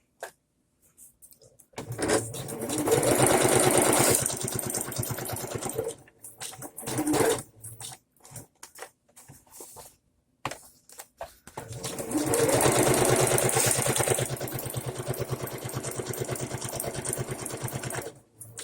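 A sewing machine stitches paper pockets for a junk journal in rapid mechanical bursts, running a few seconds, pausing, then running in a long steady stretch, close and clear with brief handling sounds between runs.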